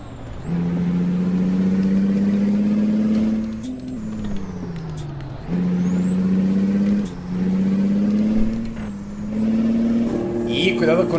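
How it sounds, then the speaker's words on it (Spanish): A Kenworth T800 dump truck pulling a trailer drops through its gears under engine braking: a loud, steady diesel drone that dips and climbs again at each of several shifts, close and without talk. "Aquí le frenamos con motor y empezamos a bajar marchas."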